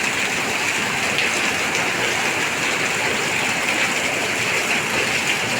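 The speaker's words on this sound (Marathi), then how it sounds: "मस्त पडतोय पाऊस" Heavy monsoon rain pours steadily in rural Konkan, a dense, even hiss of drops on surfaces that holds unchanged throughout with no voices.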